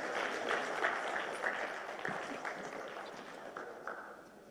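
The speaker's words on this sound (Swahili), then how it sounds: "Tumpigie tena makofi mengi Mheshimiwa Rais" An audience at a presidential book launch claps for the President, a steady spread of hand claps at moderate distance with scattered sharper individual claps, gradually thinning out toward the end.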